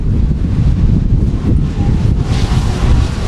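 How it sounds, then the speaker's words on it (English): Strong wind buffets a race track announcer's booth, a steady loud roaring rush with gusty surges throughout and no voices. "I originally thought that wind had gone down just a bit, Court, and I believe it did, but I believe it's kicked back up again"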